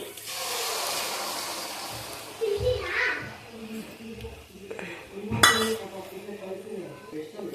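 Eggs drop into a hot pan beside onions while cooking egg palya, with clinks and scrapes of utensils against the pan, a sizzle, and a brief louder clatter, under a woman's intermittent speech.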